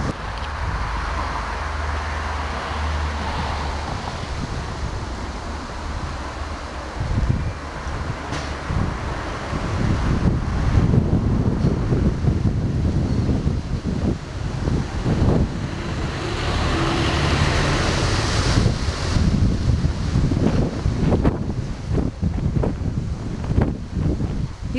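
Strong wind gusts around the grounds of Pevensey Castle, buffeting the microphone with rumbling roars and rustling through nearby trees, rising in force partway through and staying loud and turbulent.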